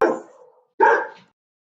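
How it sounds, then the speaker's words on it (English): A dog gives two sharp, close barks, a brief gap separating them, with nothing else around them. "Maybe you just heard Twix barking"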